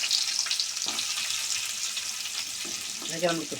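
Chopped onions frying in hot oil, a steady broadband sizzle running throughout, with a few faint thuds and a brief voice near the end.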